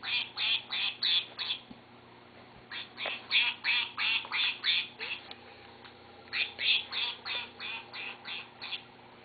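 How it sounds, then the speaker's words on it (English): A squeaky toy duck quacks in quick rhythmic bursts of several honks each, close and fairly loud, with short pauses between runs while someone plays with it. "Do you like that duck, Moan?"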